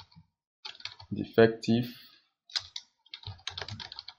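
Computer keyboard typing clicks in short bursts while filling in a Word form, with a person speaking over the keystrokes between pauses.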